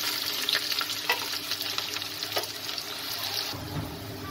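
Two medium onions fry in hot oil with a steady, close sizzle, punctuated by a few brief stirring clatters, no talking.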